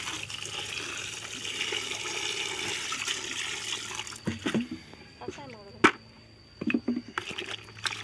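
Water poured into a pot of cooking tet-liver mushrooms makes a steady running, splashing wash for about four seconds, then gives way to scattered clinks and stirring sounds in a quieter kitchen.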